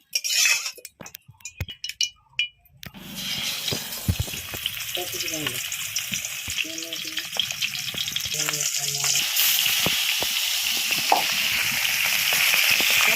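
A few sharp metal and glass clinks come first, then fish coated with salt and turmeric frying in hot oil in a pan builds into a loud, continuous crackling sizzle, with occasional stirring clatter and a faint voice.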